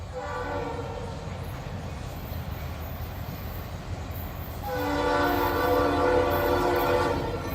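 A CSX freight train passes close with a Conrail RS3L locomotive, its rumbling wheels and engine joined partway through by a loud, sustained multi-tone horn that swells and holds to the end.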